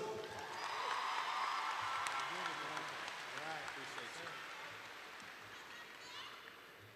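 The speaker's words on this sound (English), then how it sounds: "I want you to join me in giving a big round of applause for one of your greatest advocates, your principal, Dr. Andre Roberson." A crowd at a high school graduation ceremony applauds the principal with a broad wash of clapping and cheers that swells early and then slowly fades, with voices mixed in throughout.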